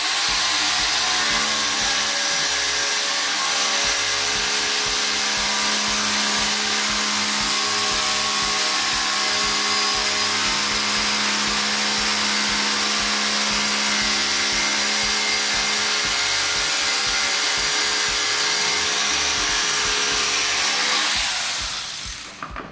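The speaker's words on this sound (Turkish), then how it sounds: "Şimdi de demiri nasıl döküpaj testereyle kesilir onu gösterelim." A scroll saw cutting through a brass piece, its motor and blade giving a steady loud buzzing whine with fine rapid chatter, running continuously before stopping abruptly at the end.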